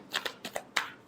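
Tarot cards are shuffled by hand in three quick, close riffling bursts, each a short papery flutter with brief pauses between.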